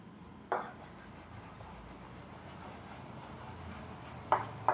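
Pen or marker scratching out a maths answer during a Class 9 lesson: a few brief, faint scratchy strokes at the start and end over quiet room noise.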